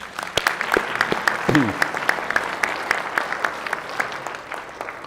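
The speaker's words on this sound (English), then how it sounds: "Another round of applause for him, please" A round of applause on a Senate floor session, with sparse individual claps scattered over a steady room murmur, moderately loud and fairly close.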